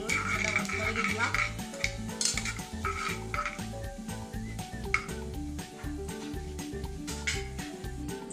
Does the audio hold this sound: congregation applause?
no